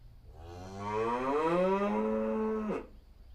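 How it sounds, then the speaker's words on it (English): A living cow moos once, a long, loud, drawn-out low call that rises and then cuts off sharply, heard close and alone with no talking. "Just to hear a real living, breathing cow moo"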